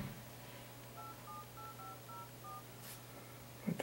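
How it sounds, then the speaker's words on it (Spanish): A Samsung Galaxy Ace phone keypad plays about eight short, quiet dialing tones in an irregular sequence over faint background hum, followed by a brief click at the end. "Voy a marcar"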